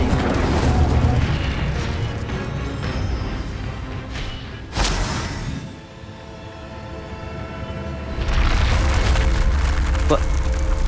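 An Incendio fire spell going off in Hogwarts Legacy, a loud rumbling whoosh with a sharp burst midway, then a swelling roar, with a voice speaking through it.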